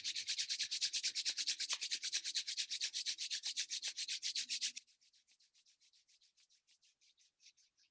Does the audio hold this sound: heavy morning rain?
no